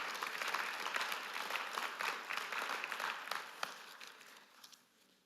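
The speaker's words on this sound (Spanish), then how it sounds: "dale un fuerte aplauso al Señor" A church congregation applauds, a quiet, distant spread of many hands clapping with a few sharper claps standing out before it dies away.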